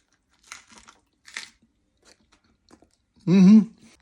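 Crisp crunches from biting and chewing a lunch taco from AM/PM topped with a sprig of lettuce, several short bursts close to the mic, followed by a brief voiced hum of approval.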